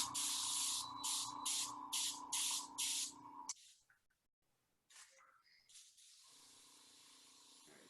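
Bursts of hiss from a spray airbrush applying colour onto a mermaid cake, about six short rhythmic sprays in a row, then a pause and softer, scattered hissing near the mic.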